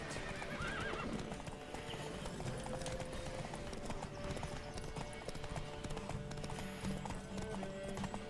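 Hooves clip-clop in a fast rhythm as a horse gallops through a race in The Witcher 3, with a whinny near the start over a steady game soundscape.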